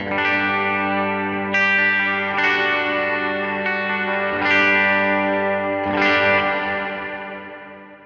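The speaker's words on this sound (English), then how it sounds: "our next reverb is Ganymede. Let's take a listen to the stock settings here" Sustained guitar chords ring out through a Line 6 Helix Ganymede reverb on stock settings, wide and lush, each new strum blooming and washing into a long shimmering tail.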